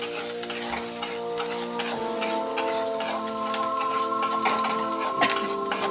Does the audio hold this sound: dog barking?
no